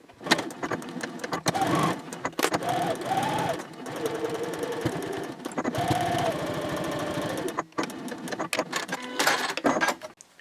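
A sewing machine stitches the side of a square fabric basket in bursts of rapid mechanical whirring, with short pauses between runs and a few clicks.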